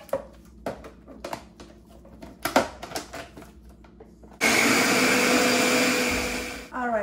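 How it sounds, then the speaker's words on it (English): Electric blender blending organic seasonings for turkey stuffing, a few clicks and knocks of setup followed by a loud, steady motor whir lasting a couple of seconds that winds down at the end. "now I'm gonna just blend this magic"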